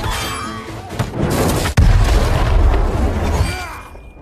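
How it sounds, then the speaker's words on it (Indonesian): Heavy cannon boom in a Mongol-versus-Siberian battle scene, a sudden loud blast midway that rolls into a long low rumble amid dense battle din, fading toward the end. "Ivan telah menggempurnya dari seberang dengan meriamnya"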